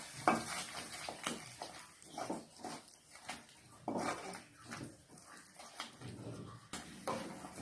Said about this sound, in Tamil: இப்போ இதை அப்படியே நல்லா ஒரு பெரட்டி விட்டுக்கலாம்.